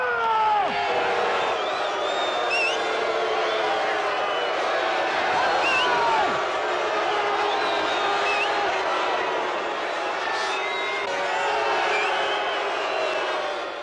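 Stadium crowd at a 1975 Steelers versus Vikings football game cheering for coach Chuck Noll, a sustained roar with whoops and shouts rising and falling, distant and dense throughout.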